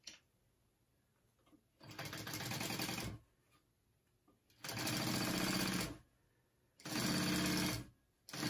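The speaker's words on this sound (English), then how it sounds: "we want to top stitch that" A sewing machine top-stitches a backpack exterior panel in three loud, steady runs of fast stitching, each a second or two long, separated by quiet pauses.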